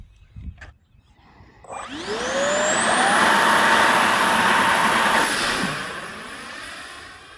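An RC Northrop Grumman X-29 model airplane spools up after a quiet start, its electric motor rising to a loud, steady high-pitched whine as it takes off and flies, then fading slightly toward the end.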